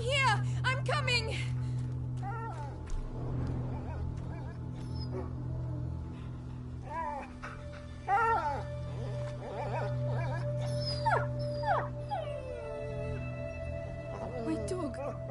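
An injured dog in A Plague Tale: Innocence whimpers and yips in thin, wavering cries amid a low steady drone, while people speak and call out over it.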